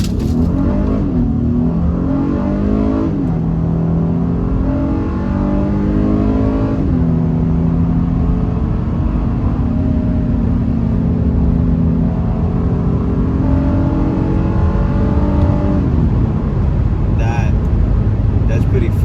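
A 2021 Honda Passport Elite SUV accelerates hard in first gear, its engine note climbing steadily in pitch with a shift-like drop and renewed rise, loud and continuous from inside the cabin while a person talks over it.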